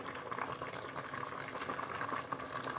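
Rice simmers in a pot for curry rice, a faint, steady bubbling and low burble of boiling water with no voices.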